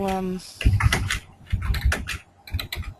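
Rapid clicking of keys on a computer keyboard, with bursts and pauses, while people talk nearby.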